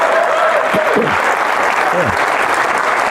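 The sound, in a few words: comedy club audience clapping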